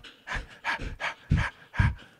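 A dog named Moose pants hard and fast in a close, loud series of rhythmic breaths, worked up after a burst of zoomies indoors.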